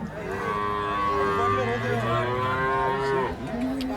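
Several cows moo loudly and repeatedly at a crowded cattle market, their long low calls overlapping against a busy background of crowd murmur.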